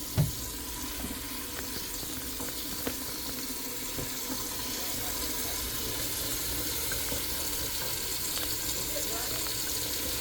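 Water pours steadily from a tap into a clogged kitchen sink, a continuous hissing splash that stays even and close throughout, with no voices over it.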